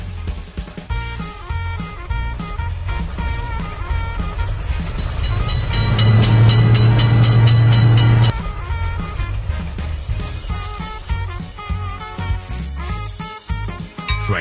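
A cartoon train rumbles past with steady mechanical noise, swelling to a loud sustained low drone in the middle before easing back to a busy rattle.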